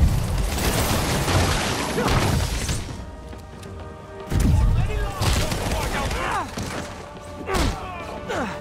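Enemy gunfire in the Marvel's Spider-Man video game, rapid bursts of shots and heavy thuds amid crashing impacts, loud and dense, with a player talking over the action.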